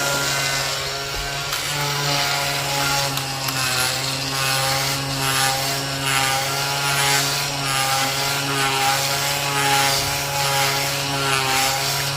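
An oscillating multi-tool sands drywall compound off a wooden plank, a loud, constant high-pitched buzzing drone with a steady hum underneath, running without pause throughout.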